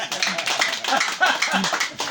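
Congregation clapping for Jesus at a church service, a dense run of hand claps from a crowd that is loud and fairly close, with voices mixed in.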